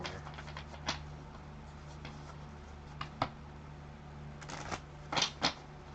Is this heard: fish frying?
no